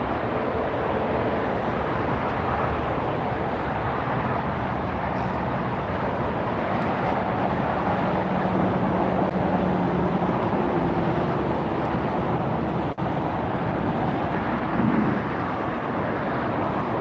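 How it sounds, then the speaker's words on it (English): EVA Air and KLM airliners taxiing at LAX, heard as a steady, broad jet engine rumble and hiss that holds constant throughout at moderate distance, with no talking. "Oh, look who else is taxiing up here. There's the EVA Air that just landed, but behind it is the KLM."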